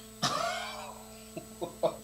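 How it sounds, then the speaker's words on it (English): A single short throat clearing close to the mic, followed by a few faint small mouth or body sounds in a quiet room. "I was just clearing my throat"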